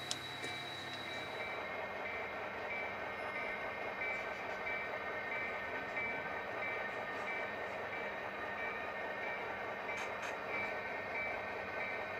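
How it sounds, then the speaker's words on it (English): A small HO scale model freight train rumbles and clatters steadily through a switch into a siding on a layout, with a continuous mechanical hum, no speech. "Here's the freight train entering the switch to take the siding."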